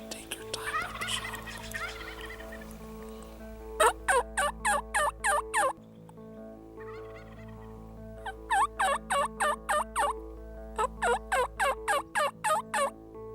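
Wild turkey toms gobble repeatedly in loud rapid bursts, several volleys in a row with pauses between, over a steady low hum in the background.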